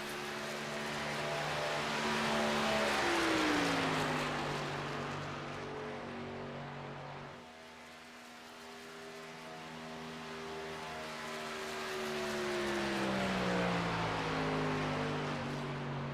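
A race car in the Pelican's Snoballs Superspeedway Series runs its second lap, its engine droning loudly and steadily, pitch sliding down as it passes and fading, then swelling again as it comes back around, with no talk.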